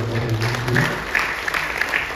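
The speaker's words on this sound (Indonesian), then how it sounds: "Kalau tepuk tangan dulu." An audience claps together in a talk setting, a loud, even patter of applause with a few sharper individual claps standing out near the end.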